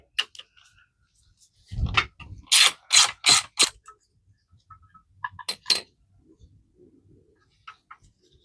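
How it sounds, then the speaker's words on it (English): A screwdriver works screws out of an electric scooter's brake assembly, giving a few quick ratcheting clicks and metallic clinks in short close bursts between quiet pauses. "Let's remove both screws."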